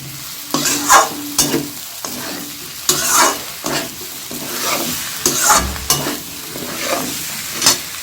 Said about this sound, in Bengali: ঢেলে দিয়ে এবার আমি একটু কষাতে থাকবো যেহেতু সবজিগুলো ভাজা আছে